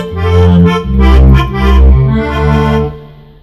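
The built-in accordion voice on a Yamaha PSR 270/340 keyboard plays a short phrase of sustained, reedy chords, loud and close, stepping through a few changes before fading out.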